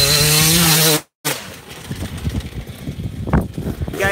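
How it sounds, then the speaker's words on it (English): A motocross bike's back wheel chatters under hard braking, a rapid run of gritty pulses over a revving engine after a brief loud engine note and a short cut-out. "You guys hear how his back wheel's chattering versus the first time when he locked it up?"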